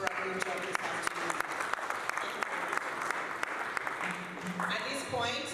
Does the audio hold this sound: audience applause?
yes